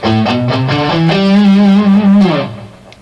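Distorted electric guitar runs a rock scale phrase like a natural minor scale with no sixth, a quick string of sustained single notes rising then falling, loud and close with no voice.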